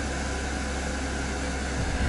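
A 12V rooftop air conditioner on an E350 van runs in turbo mode, a loud, unbroken whoosh of blowing air with a low motor drone, steady and close.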